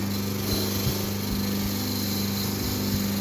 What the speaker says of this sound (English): just give it a quick go on the wire wheels, just to take any edges off it